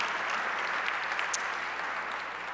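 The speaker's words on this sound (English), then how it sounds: "All right, now you can get the applause out." Sustained applause from a large gala audience, a dense, even wash of clapping filling the room at steady loudness for the whole stretch, with no voices standing out.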